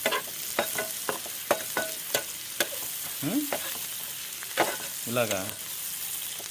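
Onions fry in a pan for keema potato curry, a continuous sizzle broken by sharp stirring scrapes and clicks; a voice briefly says a word partway through.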